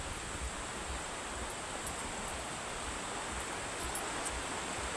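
A river in Nagcarlan, Laguna flows as a steady, even broadband rush of water, close and continuous across the whole stretch with no voices over it.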